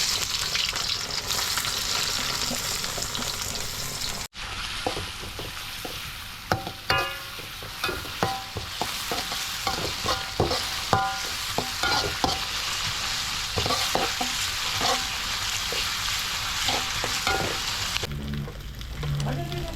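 Oil sizzles steadily in a hot pan while a spatula scrapes and clacks in repeated strokes, stirring and tossing Chinese-style fried rice close by.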